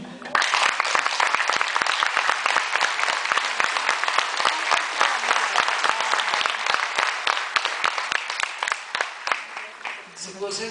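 Audience at a televised music show claps loudly for a performer, dense applause that settles into a rhythmic unison clap-along toward the end, with voices faintly in the background.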